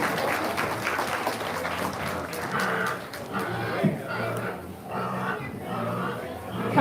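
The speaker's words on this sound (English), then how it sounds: "So let's give them a great round of applause as they head back." An audience applauds at a hog show as youth exhibitors leave the ring, scattered clapping and crowd noise mixed with an announcer's voice over the arena.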